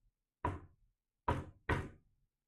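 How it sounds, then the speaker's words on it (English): Three sharp knocks on a book-lined library wall: a single rap, a pause, then two quick ones close together, fairly near and alone. "a knocking was heard from one of the book-lined walls"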